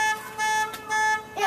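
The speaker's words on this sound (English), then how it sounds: "She presses the alarm button at 7:30 at night" A car alarm set off by a key fob button at night, sounding in loud repeating bursts of a harsh, buzzing horn-like tone separated by short gaps, close by.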